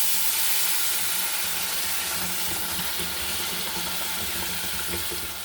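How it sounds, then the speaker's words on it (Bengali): Water pours into a cooking pot of vegetable dalia with sautéed vegetables, producing a continuous, loud hissing rush that holds at the same level from start to finish, with a faint bubbling sizzle underneath. "সিদ্ধ হওয়ার মতো একটু বেশি করে জল দিয়ে দিলাম"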